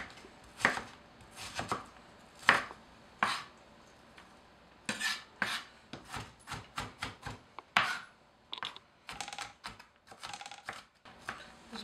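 A knife rapidly mincing an onion into very small pieces on a cutting board, bursts of quick sharp taps in uneven clusters with short pauses, close and alone.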